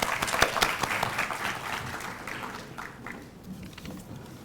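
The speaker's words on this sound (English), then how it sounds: "Let's welcome him with a big round of applause." Audience applause welcoming a speaker at an induction ceremony, a full round of clapping that gradually tapers off, with a faint voice underneath.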